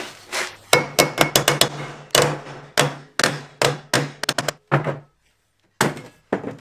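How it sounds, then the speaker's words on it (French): A small mallet hammers metal to bend it into a rounded angle, a series of sharp, loud strikes in quick irregular bursts with short pauses, close up and with no talk. "Là, vous pouvez vous aider d'un petit maillet"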